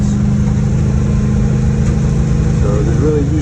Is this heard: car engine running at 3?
yes